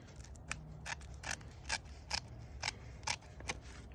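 Scissors snip through garden bed liner, a run of eight or so crisp, separate cuts at a steady pace, close up with no talking and only a low background hum.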